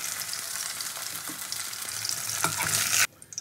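Two pieces of katla fish frying in oil, a dense, steady crackling sizzle with occasional stirring clicks, close and fairly loud before abruptly dropping to a faint hiss.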